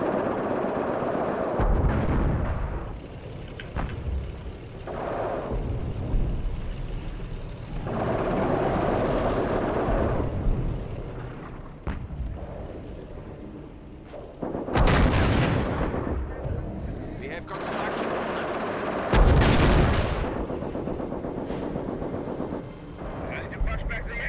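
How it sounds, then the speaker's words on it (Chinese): Artillery barrage in the Company of Heroes strategy game: repeated heavy booming blasts and rumbling explosions rolling in bursts, loud and close, with a voice talking underneath at times. "我有炮击可以射他家，我要射他家。"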